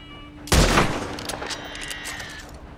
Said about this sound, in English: Gunfire near camp may draw unwanted attention.